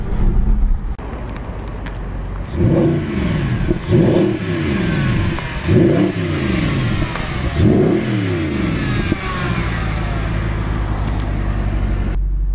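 A Mercedes SLS AMG engine revs hard in four repeated surges, each rising then dropping, over a steady close engine rumble that continues afterward.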